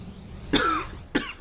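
Two sharp coughs, close to the microphone, separated by a short pause.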